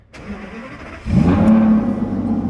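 An Aston Martin engine cranks and fires, catching after about a second and settling into a loud, deep, steady idle close by.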